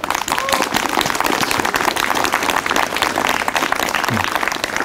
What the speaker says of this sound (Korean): 크게 한번 박수 한번 칩시다.